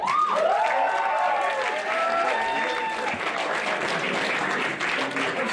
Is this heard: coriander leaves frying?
no